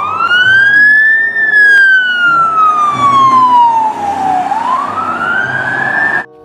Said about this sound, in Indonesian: Mobil polisi, teman-teman.